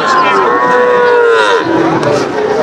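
Cattle moo loudly and continuously at the Naogaon Matajir livestock market, where cows with calves and young Sahiwal, local, Bhutti and Gir cattle are for sale; one long, drawn-out bellow dominates, with another call close behind.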